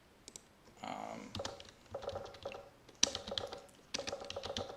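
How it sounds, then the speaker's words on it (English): Bursts of keyboard typing, quick clicking keystrokes in irregular runs, close and fairly quiet. "if you start typing correctly again"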